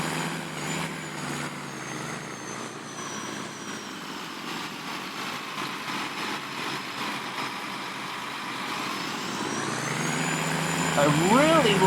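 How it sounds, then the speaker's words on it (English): A Case tractor engine in the Farming Simulator 19 video game drones steadily with a constant low rumble and a thin whine on top. It rises a little toward the end, and brief squeaky sounds break in near the close. "I really like this engine noise. This has got to be my favorite case tractor."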